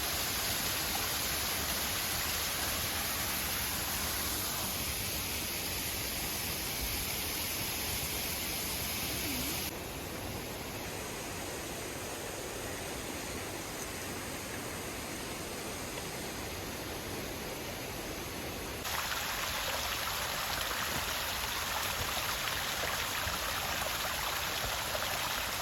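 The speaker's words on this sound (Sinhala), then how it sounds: "පේනව නේද මේ දිය පාරවල් වල තියෙන ලස්සන කුරුල්ලන්ගේ ශබ්ද, දිය පාරවල් වල ශබ්ද" Mountain streams rush steadily along the Adam's Peak hiking trail, a dense, continuous broadband roar of flowing water close by. The level stays constant throughout with no voices.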